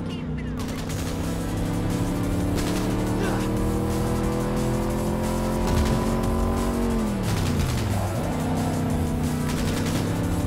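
Cars chase and overtake in Cyberpunk 2077, their engines roaring loudly and continuously. A steady, close, layered drone drops in pitch near the end, with sharp crackling bursts mixed in.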